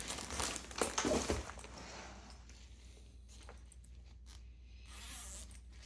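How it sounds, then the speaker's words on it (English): Zipper on an AER travel backpack being run along an inside compartment, a close crinkly rasp in short bursts over the first second and a half, then quieter fabric handling with faint rustles. "the zip from the inside"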